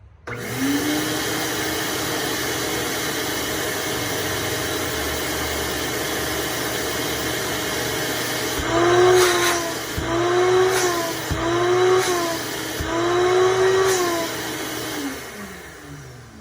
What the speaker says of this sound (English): I'm going to attach the diffuser now and turn it on.